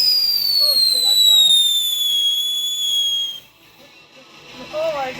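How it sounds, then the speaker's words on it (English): A Piccolo Pete firework on the Fourth of July gives a loud, shrill whistle that slowly falls in pitch for about three seconds and then cuts off, with voices of people nearby. "There goes another Piccolo P."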